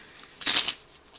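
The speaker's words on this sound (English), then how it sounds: "Shuffle." A deck of cards is riffle-shuffled during a tabletop card game, one short crisp burst of fluttering cards rising sharply and fading within a fraction of a second, close and alone.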